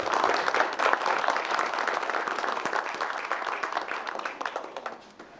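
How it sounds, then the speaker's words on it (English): A room full of people at a board meeting gives a round of applause for performing children, a dense, even clapping that holds steady for several seconds and gradually softens toward the end. "let's give them all another round of applause"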